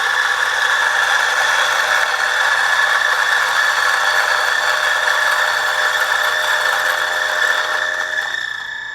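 An electric coffee grinder grinding coffee beans to a coarse grind: a loud, continuous, high-pitched whirring drone that holds steady for several seconds, then begins to wind down at the end.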